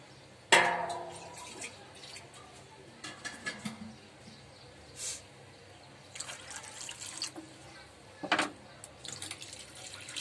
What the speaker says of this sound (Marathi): मी यात पाणी टाकणार आहे.